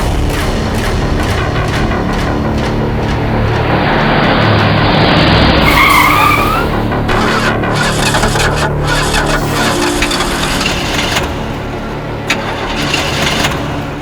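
A car skids loudly and at length on the road, tires screeching over a continuous engine roar that rises and then fades, with no voices over it.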